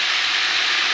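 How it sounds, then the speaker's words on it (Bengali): Water poured into a hot pan of prawn and cabbage ghonto sets off a loud, steady hiss and sizzle of steam that fills the whole second with no pause. "এবার দিতে হবে একটু জল"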